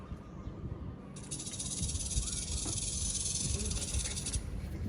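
A snake gives one long, steady hiss lasting about three seconds, loud and close, over a low rumbling background.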